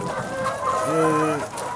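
Chickens cluck nearby, with drawn-out tonal calls and short clucks overlapping, moderately loud against a faint background.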